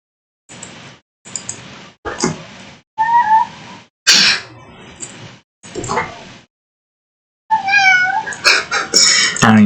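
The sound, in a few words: cat meowing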